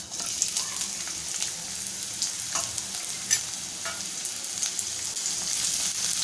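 Finely chopped medium onion sautés in a spoonful of oil, a soft continuous sizzle with light scraping stirs, fairly faint and without talk.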